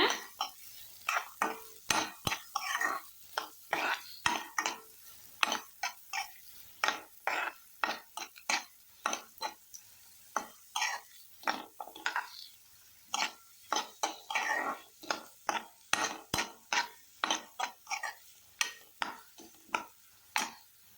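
Sliced onions for an egg curry are sautéed in a pan, with a spoon scraping and knocking against the metal in a steady rhythm of sharp strokes over a faint sizzle, close and fairly loud.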